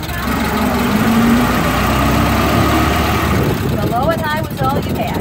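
Model T Ford engine running in high gear on a ride at Greenfield Village, a steady loud low rumble throughout, with a voice talking over it in the latter part.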